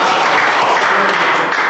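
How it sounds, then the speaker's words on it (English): Attendees at a township board meeting applaud together, a steady dense patter of clapping held evenly for the whole stretch, moderately close and without a break. "give her a round of applause"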